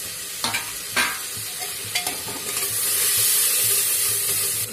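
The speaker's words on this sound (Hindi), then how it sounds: "ये सारे मसाले भुन गए हैं अच्छे से।" Spices for an Indian potato sabji fry in a pan, giving a steady sizzle with a few sharp stirring scrapes early on and a hiss that grows louder toward the end, with no talk.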